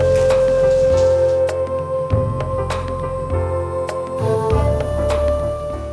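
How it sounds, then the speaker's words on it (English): Gentle rain falling at Nachi Taisha shrine in Japan, with a steady patter and scattered sharp drips tapping nearby surfaces, over a constant low hum. "A gentle rain fell as we continued exploring."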